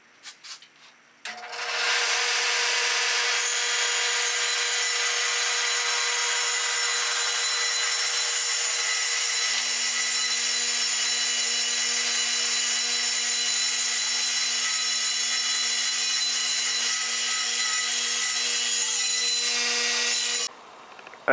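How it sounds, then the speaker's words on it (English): A circular saw cuts wooden boards for a subwoofer install, spinning up and then running in one loud, continuous, even cut for nearly twenty seconds before winding down abruptly. "Next, you want to set the saw blade depth."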